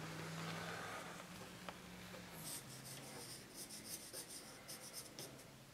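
A marker or pencil tracing an outline onto shower waterproofing membrane for a tiled steam shower, heard as quiet, close scratchy strokes in short repeated bursts over a low room hum.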